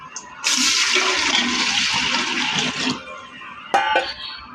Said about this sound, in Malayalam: ഒന്ന് ചൂടായി വന്നതിന് ശേഷം ഇതിലേക്ക് നമുക്ക് വെള്ളം ഒഴിക്കാം